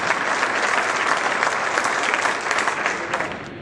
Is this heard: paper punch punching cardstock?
no